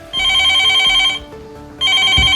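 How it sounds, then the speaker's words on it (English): Home telephone ringing with two loud, close electronic ring bursts separated by a brief pause, over quiet background music. "Han-chul started putting on shoes when the phone rang again and disconnected instantly."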